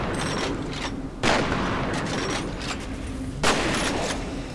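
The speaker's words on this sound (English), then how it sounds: "See that fucking fire extinguisher just blew up?" A fire extinguisher bursting under gunfire in the shooter game F.E.A.R., with two sharp loud blasts over a constant noisy hiss of combat.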